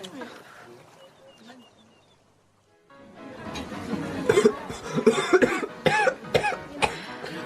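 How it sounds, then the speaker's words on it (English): A quiet, muffled stretch gives way to a burst of harsh, repeated coughing, loud and close, with throaty rasps and noisy breaths between the fits. "You should look after that cough."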